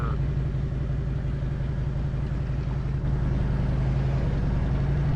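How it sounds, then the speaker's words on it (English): Older carbureted Harley-Davidson motorcycle out on a ride, a steady loud low engine rumble with constant road noise throughout and no clear revving changes. "Taking the Harley out for a ride"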